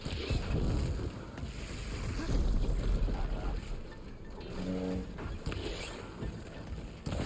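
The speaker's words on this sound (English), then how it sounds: "It's only now and again we get lots of loud noises of engines." Engines from nearby main-road traffic drone continuously outside, a rumbling wash of passing vehicles that swells and fades, fairly loud throughout with no talk.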